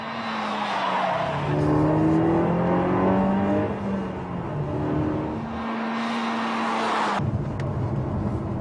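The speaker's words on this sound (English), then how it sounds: "The RCZ easily gets up to speed, offering an engine noise on par with today's best sports cars." A Peugeot RCZ sports car engine revs up through rising gears, its pitch climbing and dropping between shifts, loud and close with a brief tire squeal.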